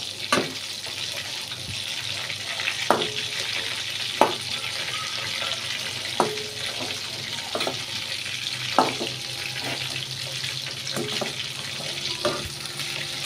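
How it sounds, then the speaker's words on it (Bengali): Meat turned and fried in a pan, a steady sizzle with faint water-like hiss running throughout and periodic sharp clinks or scrapes of a utensil every second or two, no voices. "এই তো সুন্দর করে উল্টিয়ে পাল্টিয়ে এটাকে ভেজে নিচ্ছি"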